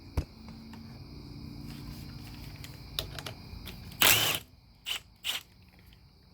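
Wrench work on a bolt on a 2016 KYMCO K-Pipe motorcycle: scattered metallic clicks and a short burst of ratcheting, followed by a couple of sharp clanks, close and otherwise quiet.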